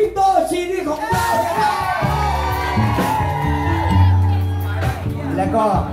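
Concert crowd cheering and whooping at a live Thai pop show. Loud shouts and yells carry steadily through, mixed with someone talking over them and a low musical hum underneath.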